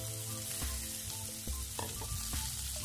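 Chopped potato and sliced onion frying in a pan with jeera and cardamom, a soft steady sizzle with occasional spatula scrapes and taps, fairly quiet and close.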